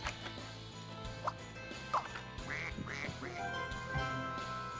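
A cartoon duck in the video game Scribblenauts Unlimited quacks three or four times in a row over steady, busy game music.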